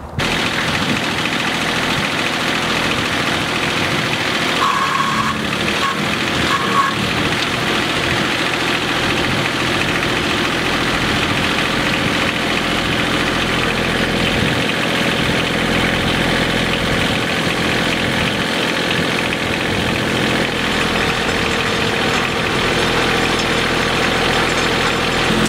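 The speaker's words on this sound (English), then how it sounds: "I'll turn the PTO ratio to 540, and then release the clutch, and then this should start turning" A tractor engine runs steadily with its PTO set to 540, driving a post hole digger in a continuous loud mechanical drone with a faint rattle, holding an even level throughout without any talk.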